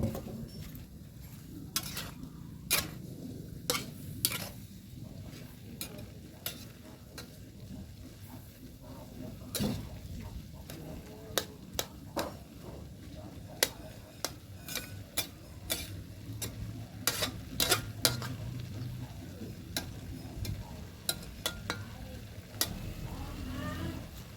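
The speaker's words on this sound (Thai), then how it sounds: "ก็หมั่นคนนิดนึงครับ เวลากลัวมันจะติดกระทะ" Oil sizzles steadily in a pan while a utensil scrapes and clinks against it in irregular strokes, close and fairly quiet.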